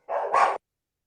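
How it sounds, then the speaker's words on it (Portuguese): Dogs fighting let out a single short, harsh bark burst at close range, lasting about half a second, followed by silence. "Ixi, Maria, se quebraram lá os cachorros."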